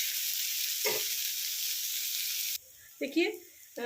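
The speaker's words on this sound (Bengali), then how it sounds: "এইভাবে আমি পেঁয়াজটা ভেজে ফেরত আসছি" Onions frying in a pan give a steady bright sizzle for most of the stretch, then the hiss suddenly drops away, leaving a few short scraping or clattering sounds near the end.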